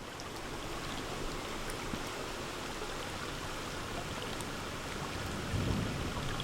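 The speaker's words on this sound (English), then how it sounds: "I just heard that little bit of a thunder over my head too." Steady rain pours close by under a thunderstorm, with a low rumble of thunder swelling near the end, no voices present.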